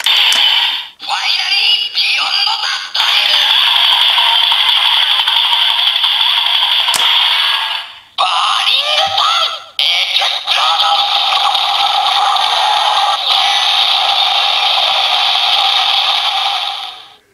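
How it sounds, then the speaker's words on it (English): A DX Ginga Miride Watch toy from Kamen Rider Zi-O plays its electronic Beyond the Time finisher audio, loud bright voiced and musical effects running continuously with a few brief breaks and clicks. "we'll activate this finally Beyond the Time"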